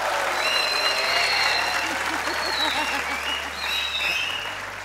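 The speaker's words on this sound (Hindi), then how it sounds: "अहमद शहजाद भाई भी तालियां बजी" Studio audience applause at a Pakistani cricket talk show, a dense, steady clapping that fills the whole stretch without break, loud and close, with faint voices mixed in underneath.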